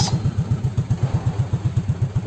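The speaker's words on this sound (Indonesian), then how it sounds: "Nah, ini mesin masih nyala" An automatic scooter engine idles close by in a steady, even pulsing putter, alone without any talk over it.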